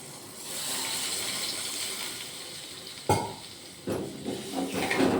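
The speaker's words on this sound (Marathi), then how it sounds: "पाणी सोडून देऊया." Water poured into a simmering tomato curry in a pan, a steady hissing wash of liquid for about three seconds, then bursts of splashing and bubbling sizzle as it hits the hot pan, fairly close with no talk.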